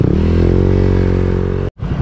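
A Honda Click 160 scooter with an RS8 torque drive and new CVT tuning revs hard on a test run, a loud close engine whine climbing steadily then cutting off abruptly before restarting briefly.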